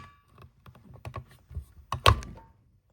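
A VEVOR button maker handle pushed down hard, ending in one loud clunk near the end, after a run of lighter taps and clicks from the mechanism.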